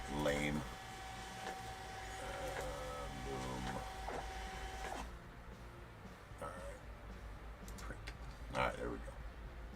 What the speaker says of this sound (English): I printed it with the Rolo and not the other printer.